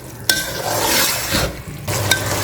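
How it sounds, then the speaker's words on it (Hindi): A spoon stirs chana biryani masala with chickpeas and dried plums in a pan, clinking sharply twice against the metal over a steady sizzling hiss, with no talking. "मिक्स कर लेंगे।"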